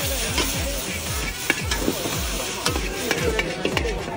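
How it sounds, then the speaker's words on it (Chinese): Mung bean sprouts stir-fried in a wok over high heat at an open-air rural market restaurant in Shandong, a loud continuous sizzle broken by repeated metallic scraping and tossing clanks in an uneven rhythm. "爆炒绿豆芽"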